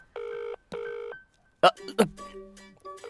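An outgoing phone call rings with two long electronic ring tones, then a brief clatter and other tones follow.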